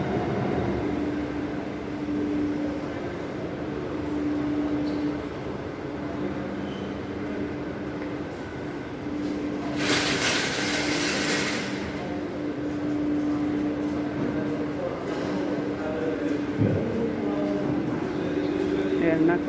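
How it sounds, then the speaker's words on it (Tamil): A Kochi metro train arriving at a station, a steady rolling rumble with a brief loud hissing burst midway and a faint squeal later, while people talk nearby. "அங்கே ஒரு மெட்ரோ வந்துடுச்சு"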